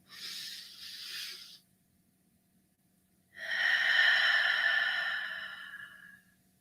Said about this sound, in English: Breathe in the love and the light of God